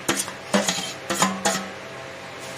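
A spoon stirs eggplant and tomato chutney with green chillies in a metal pan, giving several sharp scrapes and clinks in quick bursts, close and fairly loud, then fading to a quieter steady background.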